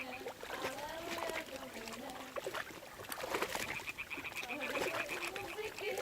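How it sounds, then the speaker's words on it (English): Frogs croak in repeated bursts near water in the video game Kingdom Come Deliverance 2, with light splashing and trickling around them and a speaking voice underneath. "There gotta be some frogs"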